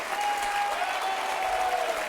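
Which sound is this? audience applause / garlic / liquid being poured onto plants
audience applause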